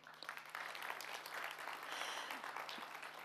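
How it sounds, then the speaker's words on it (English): Steady applause from an audience for graduates at a take-off event in Istanbul, sustained and fairly distant, with no voices on top. "These applauses for our graduates"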